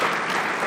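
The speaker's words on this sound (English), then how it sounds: "Please, let's give them a warm round of applause." A warm burst of applause for panelists at an investment and business forum in Mendoza, a brief dense clapping that stays loud and steady with no talk over it.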